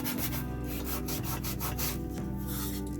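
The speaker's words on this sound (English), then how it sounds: "I'm going to try to sand the whole thing just a little to give it, because this is Dollar Tree wood" Hand sanding of a cheap Dollar Tree wooden plaque: steady, continuous close scraping and rubbing strokes with a gritty texture, loud and even throughout with no talk.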